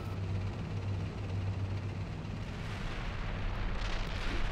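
Distant artillery fire in the tank game Steel Beasts, a low continuous rumble of shelling with a faint brighter burst near the end, no talk.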